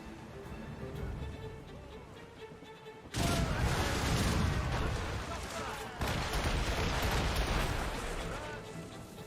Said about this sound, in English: The Morrigan also features puckle guns, 18th century machine guns that you can use in free aim mode to target weak spots